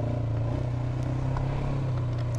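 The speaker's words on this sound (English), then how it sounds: "this Sportsman 570 is powered by a 44 horsepower single cylinder four-stroke motor" A 2023 Polaris Sportsman 570 ATV's 44 horsepower single-cylinder four-stroke engine drones at a steady, low, throbbing idle-to-cruise pitch, close and continuous, with no voices over it.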